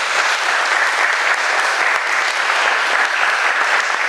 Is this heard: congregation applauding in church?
yes